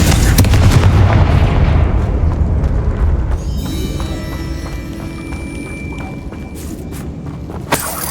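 A Confringo explosive curse goes off in Hogwarts Legacy as a heavy, rumbling blast that dominates the opening seconds, then fades into a lower, steadier game ambience with a brief sharp pop near the end.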